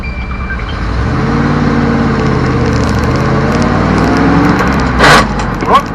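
A 1979 Dodge Power Wagon truck, revived after sitting abandoned for 25 years, runs with a steady low engine rumble close by, with a couple of brief sharper knocks near the end.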